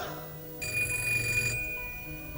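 An incoming telephone call rings once, a bright electronic trill lasting about a second over quiet room tone, with no talking.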